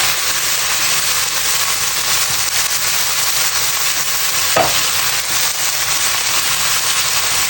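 Chicken pasta ingredients fry in a pan for a Nepali-style recipe, giving a steady, close hiss and crackle throughout, broken once by a brief clatter of stirring.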